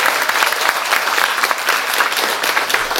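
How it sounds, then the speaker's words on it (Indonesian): Loud, continuous applause from an audience honoring a speaker at a talk on Legong Peliatan Balinese dance, many hands clapping densely and evenly throughout. "Tepuk tangan dulu kepada beliau."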